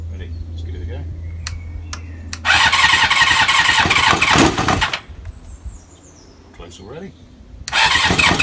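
Kawasaki ZL600 Eliminator motorcycle after a carburettor refurbishment, electric starter cranking loudly in two bursts with a brief engine catch between them, close by, with a voice speaking.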